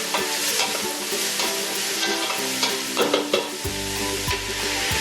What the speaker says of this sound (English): Going to grab our wooden spoon and get that worked around a little bit.